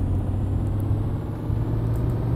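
Mercedes-Benz 1518 tipper truck in Euro Truck Simulator 2, a steady loud low engine drone and rumble while driving on the road, with no talking.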